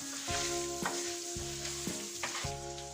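Rice for a saffron paella-style dish sizzles in hot oil in a pan, with a spoon scraping through it in a steady rhythm of four or five strokes, close and moderately quiet.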